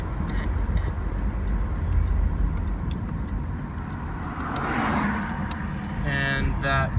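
A 1987 Mercury Cougar 20th Anniversary Edition, a fairly big car, being driven at low speed, with a steady wash of engine and road noise that runs unbroken throughout and swells slightly near the end.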